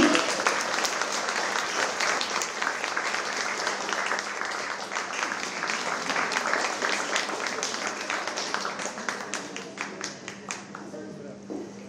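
Audience applause at a children's contest awards ceremony, a dense, sustained wash of many hands clapping that keeps up for several seconds and thins slightly toward the end.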